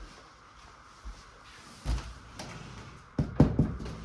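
Thin, light closet doors being handled indoors, a few soft knocks and bumps followed by a cluster of louder clacks near the end.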